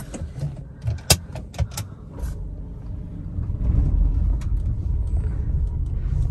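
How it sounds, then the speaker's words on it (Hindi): Loud rumbling road and engine noise fills the cabin of a Tata Nexon after 10,000 km, with scattered clicks and rattles early on before a steady droning roar. "कैबिन नॉइस कितना भयानक आता है कार में"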